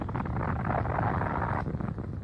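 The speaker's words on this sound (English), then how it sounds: "Now the surface explosion." A deep, sustained roaring blast of broad noise from a depth charge surface explosion, 1944 corvette, loud and dense, with a slight drop near the end as the rumble carries on.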